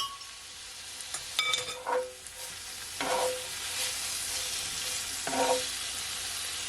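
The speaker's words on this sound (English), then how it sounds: "And now I'm gonna add my sauce" Jamaican pepper steak sizzles steadily in a hot pan as sauce goes in, with a few stirring scrapes and light utensil clinks over the constant frying hiss.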